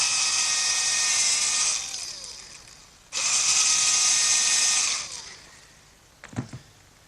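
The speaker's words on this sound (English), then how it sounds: "I'm going to have to drill a pilot hole for the screws" A power drill whines steadily at high speed boring a pilot hole in hard oak, stops briefly, then whines again for a couple of seconds before spinning down, followed by a light clatter.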